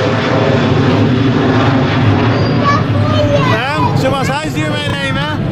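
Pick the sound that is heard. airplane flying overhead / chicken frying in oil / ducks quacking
airplane flying overhead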